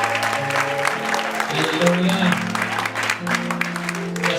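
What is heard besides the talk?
congregation applause acclaiming God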